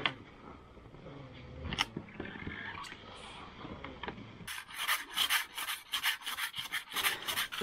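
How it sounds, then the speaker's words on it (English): Ice is scraped from under the runners of large passenger dog sleds, close by. Scattered rubbing and scuffing turn into a steady series of harsh rasping strokes in the second half. "Sometimes it's ice under the runners, so then we scrape them to get away the ice."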